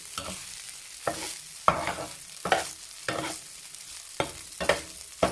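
Fried rice being stir-fried in a pan, with a spatula scraping and tossing it in sharp, regular strokes about every half second over a steady sizzle, close and fairly loud.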